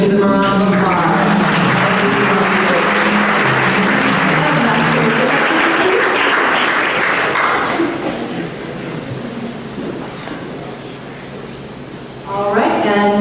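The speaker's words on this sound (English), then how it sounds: "Give them a round of applause" Audience applause fills a school dance event, a broad steady clapping roar mixed with crowd noise and voices that fades down toward the end before talk picks back up.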